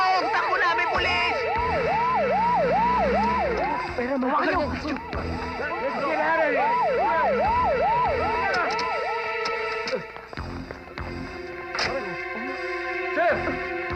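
A wailing police siren cycles repeatedly through a comedy film scene, loud and continuous, with people shouting in Filipino over it and the siren pattern changing partway through.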